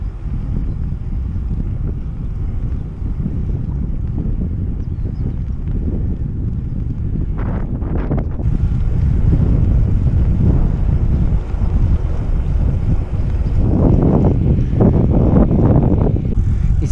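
Wind rushing over the microphone of a bicycle on a long-distance ride from Vilnius toward Zakopane with a tailwind, a constant low roaring buffet that swells louder in gusts partway through.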